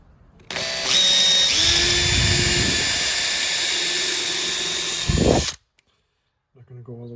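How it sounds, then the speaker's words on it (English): A power drill bores screw holes through the copper-clad door of a CLC teardrop camper, giving a loud, steady high whine for about four and a half seconds before it cuts off, followed by someone speaking. "The drill works pretty good."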